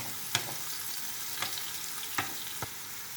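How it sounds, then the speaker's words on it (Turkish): Mushrooms and onions fry in a pot for mushroom soup, with a constant close sizzle and a few sharp spoon scrapes and clicks as they are stirred. "Başka bir kaşıkla da burada bu mantarımla soğanımı karıştırıyorum."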